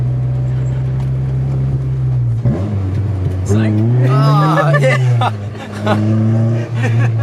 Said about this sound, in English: This car's too loud.